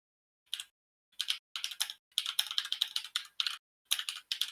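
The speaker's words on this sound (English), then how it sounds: "I hear furious typing" Furious typing on a computer keyboard: rapid bursts of close, crisp key clicks separated by brief pauses, with no voices.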